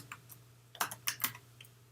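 A few quick keystrokes click on a computer keyboard, close and fairly quiet, in uneven bursts over a faint steady hum.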